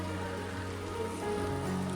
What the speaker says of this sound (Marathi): आणि ह्या टायमाला पाऊस सुरू झाला भारी वाटतंय